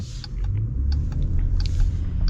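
Interior drive of a 2023 Jeep Grand Wagoneer Obsidian with the Hurricane engine and 8-speed automatic: a steady low engine and road rumble fills the cabin, with faint creaks and ticks over it and no talking.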